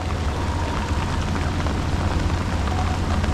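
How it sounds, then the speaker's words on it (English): Steady rain falling outdoors during a catfishing trip, a dense, even hiss with a low rumble underneath, continuous and fairly loud throughout with no talking. "I would like for it to stop raining."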